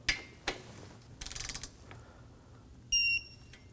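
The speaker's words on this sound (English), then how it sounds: "Now we can go ahead and torque them to 6 foot-pounds." Ratcheting wrench torquing radiator nuts on a 2016-2020 Kia Sorento 2.4L, with a short burst of clicking ratchet strokes amid scattered metallic taps and a brief high electronic beep, close and fairly quiet.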